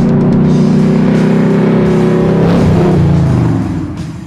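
An 800-horsepower big-block engine in a 1969 Ford Mustang called the Anvil revs hard and loud up close, rising and falling in a heavy, throaty roar before easing off at the end.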